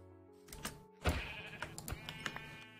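Sheep bleat several times in Minecraft, short nasal cries in quick succession over soft game ambience and clicking, fairly close and clear.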